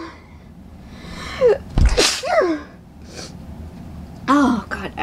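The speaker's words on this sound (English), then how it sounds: "I'm gonna suddenly sneeze again." A loud, close sneeze bursts out midway, preceded and followed by breathy gasps and short vocal sounds, with brief speech-like utterances afterward.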